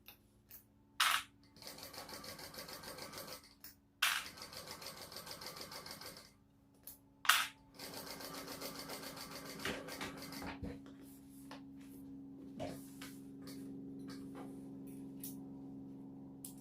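Domestic sewing machine stitching the seam of a fabric Traveler Pouch bag, running in several bursts of rapid even whirring with brief pauses between, close and fairly quiet, with a few clicks and handling noises.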